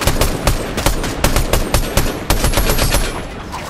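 Rapid automatic gunfire in Fortnite, loud and close, a dense string of shots in quick rhythm that runs almost without pause.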